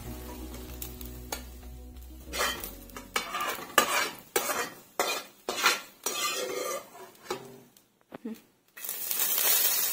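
Onion and cumin being stirred in a pan with a metal spoon, a run of loud scraping, clattering strokes against the pan over a low sizzle, with brief pauses between bursts.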